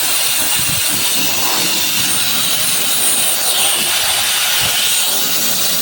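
A KEELAT mini turbo fan roars steadily at maximum speed, a loud continuous high-pitched whoosh with no pauses.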